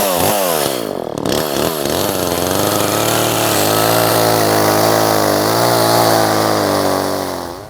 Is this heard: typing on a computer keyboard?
no